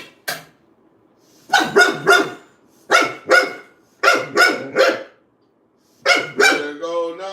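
An American bully dog barks in loud, close bursts of two or three sharp barks separated by short pauses, ending with a higher whining yip.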